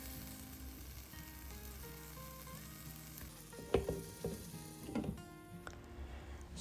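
Food frying gently in a pan over low heat, a soft continuous sizzle with a few clinks and scrapes of turning partway through, quiet and close, no one speaking.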